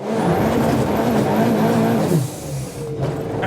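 Ford Escort Cosworth engine running: a loud, steady, close drone with a rattly edge for about two seconds, then dropping to a lower, quieter idle.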